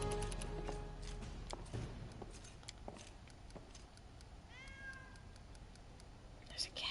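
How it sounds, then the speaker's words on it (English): A cat meows in a fantasy role-playing game following a rogue half-elf, a short rising-and-falling call set among other game sounds, clicks and soft effects at moderate level. "There's a cat."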